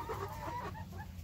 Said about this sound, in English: so they've got plenty of room in here for these chickens